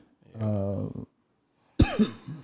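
A voice hums briefly, then after a pause a single sharp cough bursts out close by.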